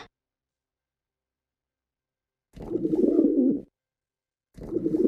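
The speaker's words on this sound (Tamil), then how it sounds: "காட்டு புறாடா" A wild dove coos nearby in two low, soft, rolling bursts separated by silence, with no other sound around them.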